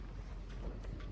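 Strong wind buffets a microphone outdoors in West Virginia on a chilly day, a constant low rumbling roar with gusty swells across the brief moment.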